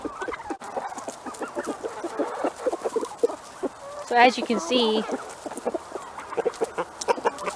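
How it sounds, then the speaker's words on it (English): A backyard flock of turkeys and chickens clucks and chatters while waiting for a treat of eggshells. Short calls come from several birds under a person's voice, with a louder burst of calls in the middle. "The turkeys are wondering where their treat is."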